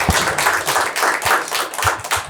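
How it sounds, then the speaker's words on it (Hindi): An audience claps throughout a comedy show's office-party segment, a dense, steady burst of applause with no voices over it. "ताली बजा दीजिए भाई के लिए।"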